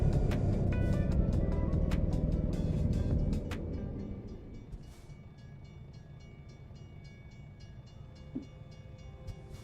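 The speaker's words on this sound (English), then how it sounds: "we're gonna get a train passing" A train rolls past in American Truck Simulator, a loud, rumbling clatter of wagons for the first few seconds that then drops away to a faint distant hum with a few light clicks.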